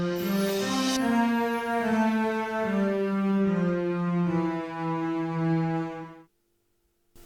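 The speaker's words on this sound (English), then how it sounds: "I actually added a double bass, a cello, a crash cymbal and chimes, and this is how it sounds like." Orchestral sample layering double bass, cello, crash cymbal and chimes for an R&B track, a sustained low harmonic swell with a bright shimmer early on, playing loud and alone before cutting off.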